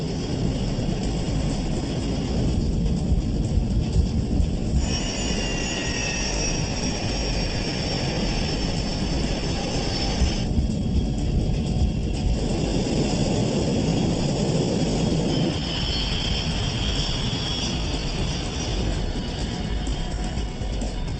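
A British-built BAE 146 commuter jet with quiet turbofan engines cruises on a short-haul flight: a steady, dense, broadband roar that continues without break, as heard from inside the cabin, with no talking.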